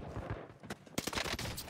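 Video game gunfire from the Lena gun: rapid bursts of shots crackling in quick succession, fairly quiet and dense over a short span.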